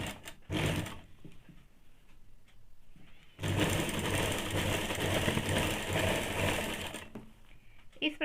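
Sewing machine stitching a half-inch folded hem on a high neck blouse, a fast mechanical whirring in two bursts, a short one then a longer steady run, with brief pauses and handling clicks between.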